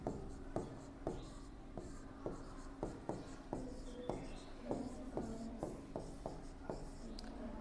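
A teacher writing on a classroom board during a maths lesson: a steady run of short tapping, scratching strokes, about a dozen distinct hits in a loose rhythm, close and fairly quiet.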